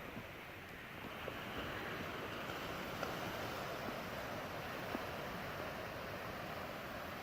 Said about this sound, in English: there's some nice rolling waves.